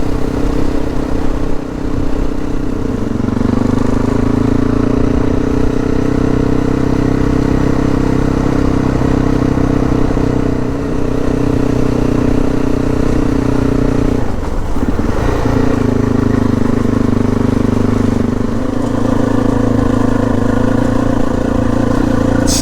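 A kickstart off-road motorcycle engine runs steadily at close range, a loud continuous mid-pitched drone that shifts slightly in pitch partway through, with no voices.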